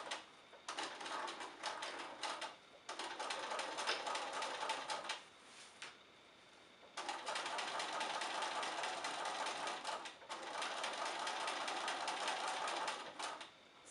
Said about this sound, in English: I'm going to go slow so that my top stitching looks good and that my machine can make it through all these layers